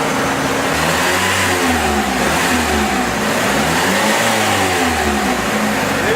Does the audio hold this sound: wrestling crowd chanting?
no